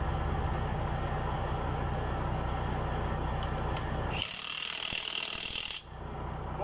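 An impact wrench in breakaway mode loosens truck wheel nuts: a dense, loud mechanical rattling hammer runs for about four seconds, cuts off abruptly, then a quieter background hum follows, with no talk.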